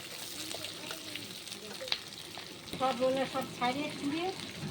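Onions, tomato and capsicum fry in a pan for chilli chicken, giving a soft, steady sizzle with stirring, and a voice talks over it in the second half.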